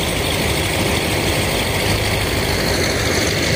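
A loud, steady dredger engine pumping sand drones continuously at close range, a heavy rumbling hum with no pauses or voices.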